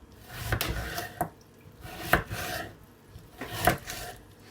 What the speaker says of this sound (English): this is how I'm gonna cut it, like little cubes